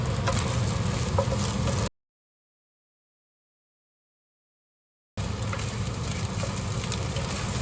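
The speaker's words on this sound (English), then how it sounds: "So just keep stir frying until it start to dry out." Steady, loud sizzling of rice being stir-fried in a wok, broken by a silent gap before the frying noise resumes.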